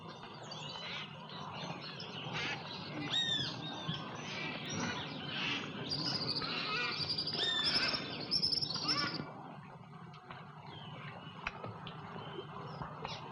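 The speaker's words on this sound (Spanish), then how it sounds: "la música que dominaba aquel cuadro era la llamada de los guacamayos, eran los gritos de los loros, era la voz incesante, eterna y monótona de la selva" Macaws and parrots call and screech in the jungle, a dense layer of chirps, whistles and harsh cries rising and falling over a constant forest hum, with other birds and insects mixed in.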